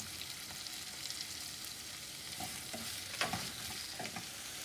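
Onions sautéing in a pan with chili and curry leaves give a steady, soft frying sizzle, broken by a few light stirring scrapes and no voices.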